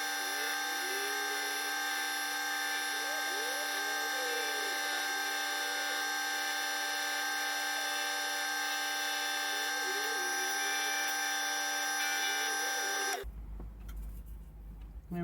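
A wooden dibber spins on a lathe while a wire is pressed against it to burn a line, making a steady close whining motor drone that cuts off abruptly near the end.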